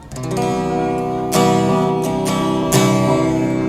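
A clean electric guitar through a TANK-G multi-effects unit with clean delay plays sustained chords, each strum trailing into repeating echoes, loud and close with no voices.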